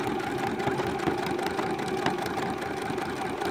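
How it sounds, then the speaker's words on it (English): Computerised sewing machine stitching a buttonhole, a steady fast mechanical chatter with even rhythmic needle ticks, close and continuous throughout. "it'll stitch back over that little line that it just stitched on the way down"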